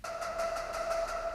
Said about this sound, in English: I really dug those sharp synth sounds.